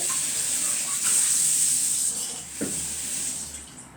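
Potatoes rinsed under a running kitchen tap, water pouring steadily and close with a constant hiss, a few faint clinks and knocks mixed in, no voices.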